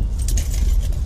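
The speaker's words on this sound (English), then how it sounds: "lock that, got to take my keys." A bunch of car keys jangles and clinks close up in one brief, busy rattle, taken from a vehicle at a roadside stop.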